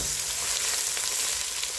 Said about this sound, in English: I'll be using the oil to fry the aromatics like the onion and the garlics.